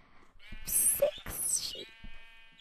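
Sheep bleat in a video game, wavering bleats layered with bright noisy game effects, fairly loud and continuous, with some talk-like sounds mixed in.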